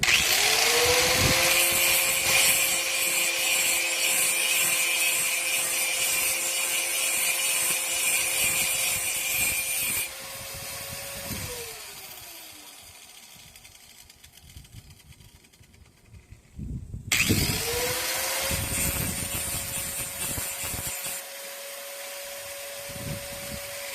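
Power tool grinds a part from a Briggs and Stratton 7HP Platinum series lawnmower engine that won't start, a loud steady whine running for about ten seconds, stopping, then starting again after a pause.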